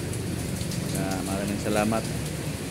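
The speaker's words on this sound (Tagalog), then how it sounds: "Malakas ang ulan, mabilis umaapaw yung kanal" Steady heavy rain patters with a dense hiss throughout, while a person speaks briefly over it.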